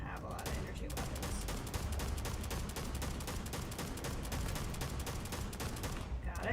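Rapid automatic gunfire rattles steadily for several seconds in Starfield, a fast even stream of shots at a fairly low level before it cuts off near the end.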